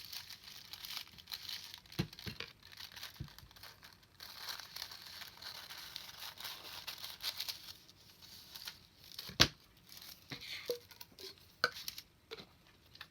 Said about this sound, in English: I'm just going to cut off a little piece here.